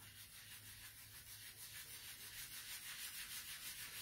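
A cloth or hand rubs wax paste off a painted chalk-stencilled pumpkin in a steady, faint, continuous scrubbing with a soft back-and-forth rhythm and no talking.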